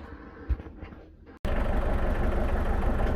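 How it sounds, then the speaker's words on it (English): A VW T25 camper van engine idles quietly, cuts out briefly, then roars back louder and steady, running with a continuous rumbling drone. "So engine's been running now about 5 minutes"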